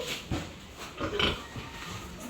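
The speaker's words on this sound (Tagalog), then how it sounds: "Yan po yung mga alagang baboy nila ate" Pet pigs grunt close by in a few short, rough bursts spaced irregularly, with no talk over them.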